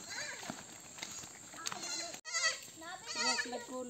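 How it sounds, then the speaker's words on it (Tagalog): A mother goat with her kid bleats in a rural farm setting, several wavering cries heard close by, mixed with a person speaking over and between them. "May anak yung kambing."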